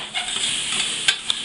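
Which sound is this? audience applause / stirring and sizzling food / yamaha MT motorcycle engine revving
stirring and sizzling food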